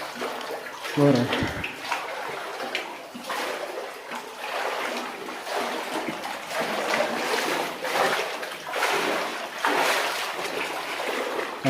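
Cold water splashing and pouring near an abandoned tungsten mine on a deserted island, a steady wash of water with occasional splashes, close and fairly loud, with brief talk at times.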